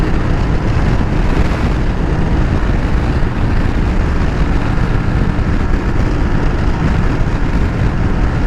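Steady, loud wind roars and buffets across the microphone while riding an Aprilia Tuareg 660 adventure motorcycle at speed, air rushing over the windscreen in a continuous broadband blast with a faint engine drone underneath.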